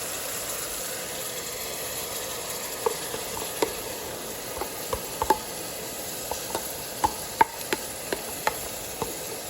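Onions, tomato and ground paste are stirred as they fry in a pan, with a steady close sizzle and scattered sharp taps and scrapes of a spoon against the pan, no voices.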